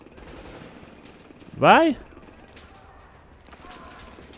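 Gunfire in The Division's Dark Zone, a short loud burst of shots near the middle of the clip, with players talking before and after it.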